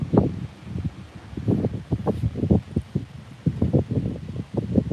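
Gusty wind buffeting the microphone outdoors on a fishing trip: low, uneven rumbling bursts that rise and fall continuously, loud and close, with no speech.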